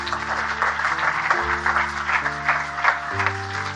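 Audience applause at a Hindi Christian sermon, clapping heard under sustained keyboard chords that change pitch, the clapping fairly soft and mixed with the music.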